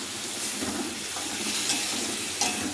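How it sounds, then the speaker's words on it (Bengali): Chicken cooks in a pan with dried chilli, onion paste, ginger, garlic and cumin, giving a continuous loud sizzle and hiss while it is stirred, with no voices over it. "এবার চিকেনটা কষানো হচ্ছে"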